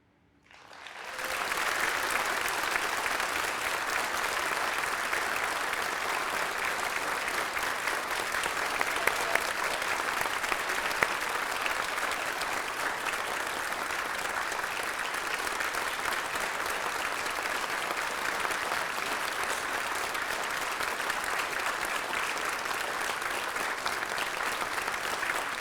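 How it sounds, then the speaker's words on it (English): A large audience at a teaching excellence awards ceremony claps on cue, starting abruptly from silence and holding a long, steady, dense wall of applause for over twenty seconds with no speech. "We're going to do some applause"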